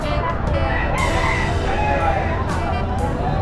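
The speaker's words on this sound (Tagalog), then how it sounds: "mga native na manok." Native chickens at a roadside spot near Tanay, Rizal, clucking and crowing amid other farm animals; several crows and clucks come from close by, with someone talking over them and steady background noise.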